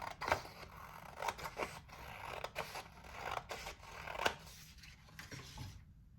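Scissors cutting a strip of paper along a ruled line for a paper lantern craft, a run of close, crisp snips and slicing rasps in an uneven rhythm, then quiet at the end.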